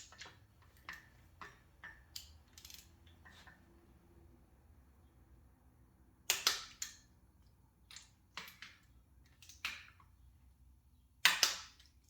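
A torque wrench tightens oil pump bolts to 25 foot-pounds during engine assembly, giving quiet ratcheting ticks and sharp, close clicks in scattered bursts, with two louder snaps standing out.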